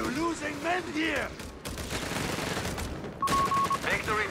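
Rifle gunfire from infantry squads in Company of Heroes 3, rattling bursts of shots mixed with battle noise under a commentator's steady voice, with a brief beeping interface tone near the end.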